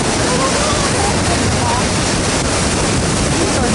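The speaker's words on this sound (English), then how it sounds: "This is our last rapids before we pull in for camp" Loud, steady broadband roar of river rapids on a Grand Canyon rafting trip, close and continuous, with wind buffeting the microphone throughout.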